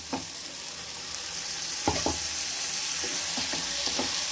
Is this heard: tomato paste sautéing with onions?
yes